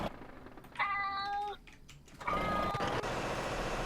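A cat meows twice in a game scene, the first cry clear and harmonic, the second longer and rougher, with speech and background noise around it.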